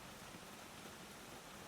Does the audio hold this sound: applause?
no